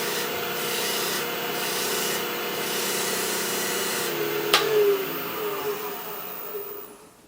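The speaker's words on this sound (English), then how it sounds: "Going to increase the lathe speed a little for this and burnish." Natural bristle brush burnishing a wooden piece spinning on a lathe at increased speed, a loud steady rushing rub with a sharp tap midway before the sound fades out.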